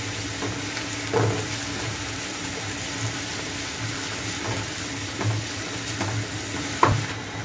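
Onions sizzling with tomato paste in a frying pan for a Rupchanda fish curry, a steady close hiss with occasional stirring scrapes and soft clacks of the spoon, no talking.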